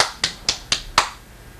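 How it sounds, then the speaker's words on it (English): A baby claps tiny hands together, four sharp, evenly spaced claps close by, the last a bit louder, then quiet. "Oh, she's doing a little clap."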